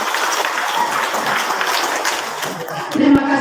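Audience applause at a students' Christmas arts night in a church community hall, a steady dense wash of clapping through the whole stretch, swelling slightly near the end.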